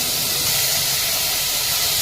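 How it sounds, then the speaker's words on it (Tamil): Tomatoes with a little salt cook in a pan for a traditional chicken curry, giving off a loud, continuous steamy hiss that stays level throughout with no voices over it. "இப்போ பாருங்கள், தக்காளி நல்லா வதங்கிடுச்சு."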